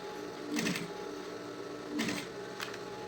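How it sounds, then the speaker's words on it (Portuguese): A sewing machine stitches a synthetic school pencil case, running in short whirring bursts with brief pauses between them, fairly quiet and close, with no talk. "tenta fazer a costura pra dentro das costuras que já existem"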